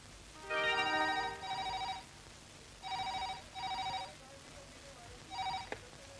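An office telephone rings indoors in repeated double bursts of electronic trilling with short gaps between them, and a click cuts the last ring short.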